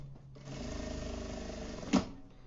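Domestic sewing machine running a short burst of stitching along the edge of layered lining fabric for a baby document holder, a close steady whir of about a second and a half ending with a small clunk.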